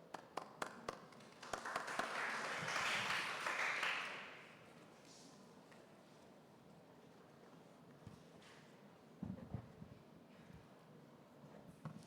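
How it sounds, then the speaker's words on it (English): Applause from a seated audience at an academic special session on urban health, a dense patter of clapping for about four seconds that then fades into quiet room noise with a few scattered taps. "Please join me in giving him a warm round of applause"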